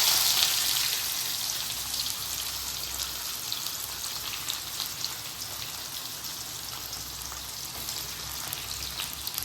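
Onions fry with cinnamon and black pepper in oil for an egg and potato curry, making a continuous, even, rain-like sizzle at moderate level with no clear stirring strokes.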